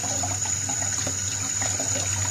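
Hot water running steadily from a kitchen tap, a continuous close splashing hiss with no pauses and no voices.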